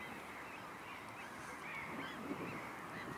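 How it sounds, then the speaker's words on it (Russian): Gulls call over a steady wash of noise as spring ice floes drift during the river's ice breakup, the calls continuous and fairly distant with no voices. "Чайки катаются на льдинах."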